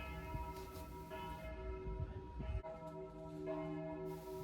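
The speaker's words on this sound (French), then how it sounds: "on a vraiment l'impression que les cloches, elles sonnent parce que j'ai dit que la vache était morte" Church bells ringing, a sustained series of resonant tolls with layered ringing tones over a low rumble, moderately distant and steady throughout, with no speech.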